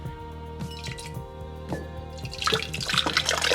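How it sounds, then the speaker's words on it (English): Coquito, a creamy coconut holiday drink, pours into a jar in a kitchen, starting as scattered thin drips and splashes and building into a louder, continuous gurgling pour over the final second, with light glass clinks and no talking. "We're gonna pour it in this jar, you guys."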